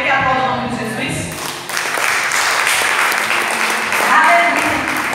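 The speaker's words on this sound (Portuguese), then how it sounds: "aplauda o nome de Jesus" A church congregation breaks into applause for the name of Jesus, sustained clapping that swells after a worship voice fades beneath it, loud and close throughout.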